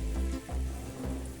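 Onions frying in butter in a pan, a steady close sizzle with soft periodic stirring scrapes, no voices over it.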